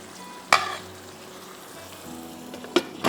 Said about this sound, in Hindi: ये सब डाल के अब हम इसको भून रहे हैं।